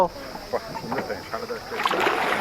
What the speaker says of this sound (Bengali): নৌকুচিয়া তালে আমাদের বোট রাইড আরম্ভ হয়েছে